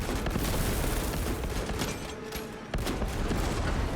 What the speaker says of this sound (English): Automatic weaponry engaged. Its servo gun is fully operational.